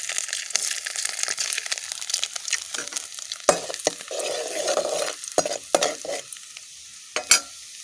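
Chopped garlic and finely cut ginger sizzle in a hot pan for jackfruit chilli, a steady frying hiss broken by sharp scraping stirs and clinks of a spatula, close and moderately loud.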